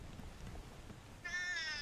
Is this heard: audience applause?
no